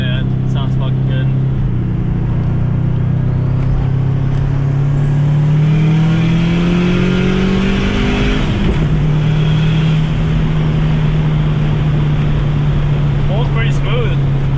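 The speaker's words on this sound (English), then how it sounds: "that turbo sounds good" Big-turbo, cammed Subaru engine revs loud and close, pitch climbing steadily then dropping and settling into a sustained drone, with people talking over it.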